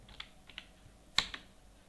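A few light computer keyboard keystrokes, faint and spaced, with one louder key press near the middle, heard alone during data entry in accounting software.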